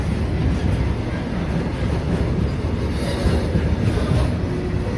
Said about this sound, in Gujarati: ટ્રેન બહુ લાંબી છે પૂરી જ નથી થતી